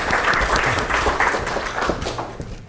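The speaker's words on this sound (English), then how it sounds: "please join me in a round of applause." A lecture audience welcomes an economics professor with a brief, full round of applause, the clapping steady and fairly close with no voices over it.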